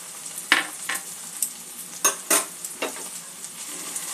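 Grated ginger is stirred into a cauliflower kebab mix frying in a pan, giving a steady sizzle broken by irregular scraping clinks of the spoon, close up with no talking.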